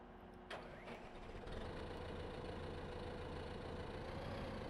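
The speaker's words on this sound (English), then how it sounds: "I'm actually just going to park this tractor over here for a second, switch her off" A tractor engine in the video game Farming Simulator 15 kicks in after a short moment, then drones on at a steady, fairly quiet idle with no one talking.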